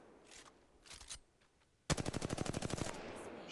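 Prowler and R-301 gunfire in Apex Legends: after quieter game sounds, a loud, rapid burst of about a dozen evenly spaced shots rings out for roughly a second, followed by a fading tail.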